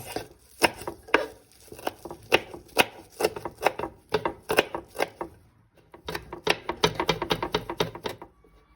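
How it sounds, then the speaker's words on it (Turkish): Brisk, steady knife taps on a cutting board as half a bunch of parsley is finely chopped, a quick irregular rhythm with one short pause midway. "Yarım demet maydanozumuzu ince ince doğruyoruz."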